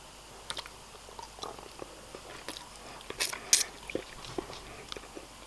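Soft, close biting and chewing of a Reese's white chocolate peanut butter cup, with a few crisp crunchy bites and moist mouth sounds in an irregular rhythm against a quiet background, no talking.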